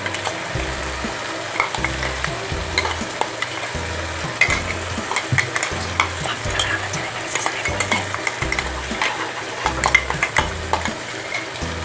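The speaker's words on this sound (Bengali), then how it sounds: "এবার আদা রসুন বাটাটা এর মধ্যে দিয়ে দেব।" Ginger, garlic and green chilli paste sizzles in a hot pan for a chicken curry while a spoon stirs it in steady, repeated scrapes, the frying hiss constant and close throughout.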